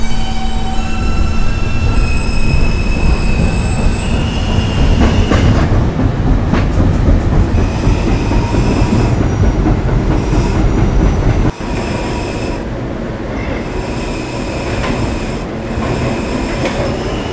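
A New York subway B train running on rails, a loud, steady roar of wheels and car noise with high squealing tones early on, then a sudden drop to a slightly quieter rumble partway through, with no talk.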